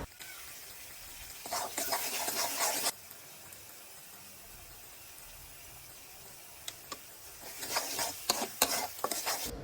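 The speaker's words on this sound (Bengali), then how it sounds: "এবার কিছুক্ষণ কষিয়ে নেওয়ার পর সরিষা রুইয়ের মেন উপকরণটা দিয়ে দেব" Turmeric, chili powder and salt fry in mustard oil in a pan for mustard rohu fish, with bursts of scraping stirring over a soft, steady sizzle, heard close with no talk.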